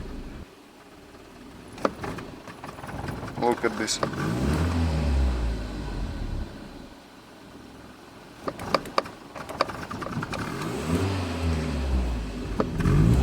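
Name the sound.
Mercedes W124 engine struggling while revving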